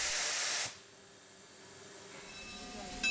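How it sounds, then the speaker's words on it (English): Niles Canyon Railway's No. 3 steam locomotive, under steam in Brightside Yard, gives a loud hiss that cuts off abruptly, then a quiet lull before a brief hiss returns at the end. "No. 3 is under steam here in front of the Niles Canyon Railway's back shop in Brightside Yard."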